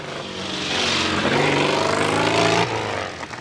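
Hells Angels motorcycles riding into town in London in 1973, engines rumbling and rising as they pass close by, a steady roar that swells and then drops away after a few seconds.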